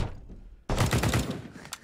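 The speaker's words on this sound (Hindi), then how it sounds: "गोली चला दे" Gunfire from the video game Propnight: after a quiet stretch, a sudden loud burst of several rapid shots fires close up and rings out briefly.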